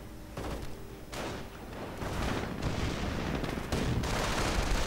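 Sustained battlefield gunfire in a World War II strategy game, dense and continuous rifle and machine-gun bursts with booming impacts, swelling louder toward the end, no talk.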